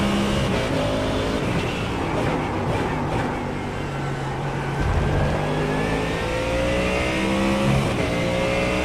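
Mustang GT3 race car in a sim racing game at Road America, its engine a loud, steady drone that climbs in pitch through repeated acceleration sweeps and gear changes, heard close throughout.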